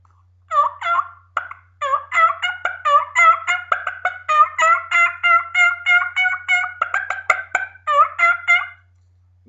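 A turkey call imitates aggressive turkey yelps and fast, high-pitched clucks in a rapid, evenly spaced run of sharp notes, loud and close with no talking.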